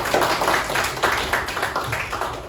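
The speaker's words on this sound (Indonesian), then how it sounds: "tepuk tangan untuk Rosana dulu" A classroom of students claps for a classmate in a short burst of rhythmic, fairly close hand claps that beat in loose unison and fade slightly toward the end.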